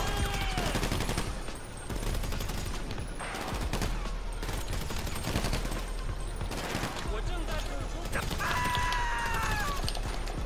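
Bursts of video game gunfire, rapid automatic shots and fusillades, play under someone speaking over the action, with bright electronic game effects mixed in.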